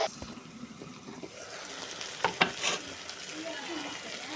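Eggplant sizzles and is stirred in a pan in a home kitchen, a steady low frying hiss with a few scraping clinks of the spatula, fairly quiet and with no talking.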